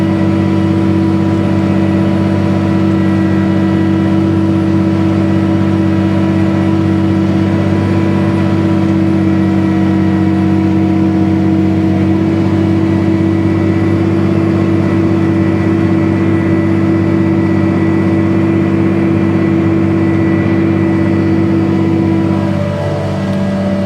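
A tractor drives steadily through a paddock while seeding hard ground, its engine a loud, constant droning hum that holds without a break throughout.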